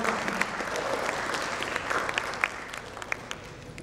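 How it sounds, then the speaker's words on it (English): An audience applauds a panel moderator at a customer experience summit and awards event in India, steady dense clapping filling the room for a few seconds at moderate loudness, with no voices over it. "A big round of applause to Devendra."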